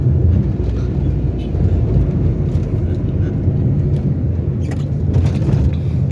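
Car crossing a roundabout on steady accelerator pressure without a gear change, a loud continuous low engine and road rumble heard from inside the cabin, even and unbroken throughout.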